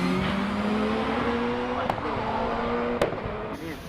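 Hill climb race car driven by John Chalmers at Loton Park, a loud, rough engine howling steadily through gear changes with brief sharp cracks, close and continuous for the whole stretch.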